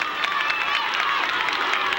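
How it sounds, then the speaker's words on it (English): A football crowd at a 1988 high school game between Oak Grove and Mangham, clapping and hollering in a steady, broad wash of cheering with scattered claps throughout. "They're clapping. They're hollering."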